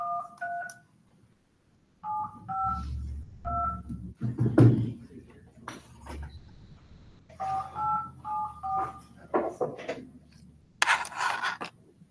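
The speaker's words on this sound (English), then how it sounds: "I'll try dialing back in and see if we get a connection" Telephone keypad dialing tones, dialing back into a call: several short bursts of paired beeps in quick groups, separated by pauses, with clicks, handling noise and faint background voices between them.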